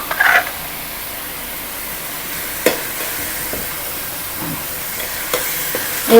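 Onions and green chillies fry steadily in a pan, a soft continuous sizzle close by with occasional clinks and stirring knocks, no talking.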